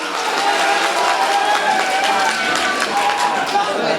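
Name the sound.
audience applause at a mushaira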